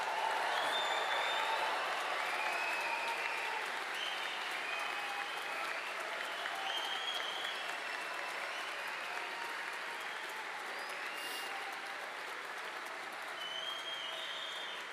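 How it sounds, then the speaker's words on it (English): Sustained applause and crowd noise from the audience at a PhD graduation ceremony, many hands clapping in a dense, even wash that lasts throughout, with faint cheering and scattered whistles above it. "suggest that the audience release a bit of tension and make quite a lot of noise and clap"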